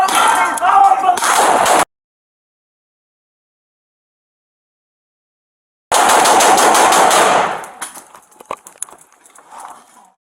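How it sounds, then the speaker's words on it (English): Gunfire erupts during a police SWAT officer-involved shooting: two dense, loud bursts of rapid shots, separated by a stretch of silence, and the second burst trails off into scattered noise. "Following the officer-involved shooting"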